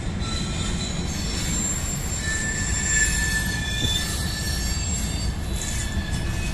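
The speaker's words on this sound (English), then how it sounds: "Things squealing wheels as usual" Train wheels squeal loudly and steadily over a deep, continuous rail rumble, with thin high-pitched tones drifting in and out. No voices are heard.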